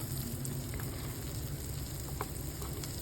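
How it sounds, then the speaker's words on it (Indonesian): Chopped onion sautéing in melted margarine in a pan, a steady soft sizzle and crackle, close and quiet, with no voices. "kita tumis sampai harum bawang bombaynya"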